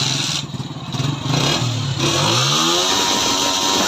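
A 2022 Honda 125 motorcycle engine with a misfire runs loudly and close, its uneven firing rising and falling as it revs, with a rough sputtering note throughout.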